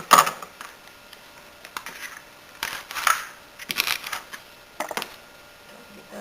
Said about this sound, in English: now I'm going to use my large knife, and I'm going to cut away any of the pieces that I don't want in my soup